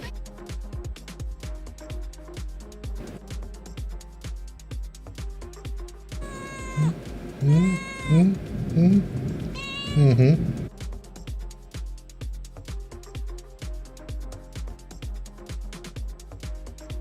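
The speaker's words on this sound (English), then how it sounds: "The micro cat." Several meows from a small cat, a tiny domestic breed that stays kitten-sized, rise loud and close in a cluster over steady background talk.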